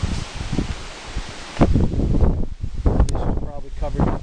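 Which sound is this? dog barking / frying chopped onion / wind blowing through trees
wind blowing through trees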